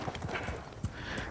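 Horse hooves clip-clopping on a ranch near a barn, a handful of quick uneven thuds over steady outdoor background noise.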